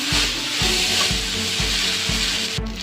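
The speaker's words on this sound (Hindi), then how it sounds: "अब हम चावल डाल देते हैं इसमें, और हमको चावल अच्छे से मिक्स करना है" Rice is stirred and mixed in a frying pan for lemon rice, with loud close sizzling and a regular rhythm of scraping strokes, about one every half second.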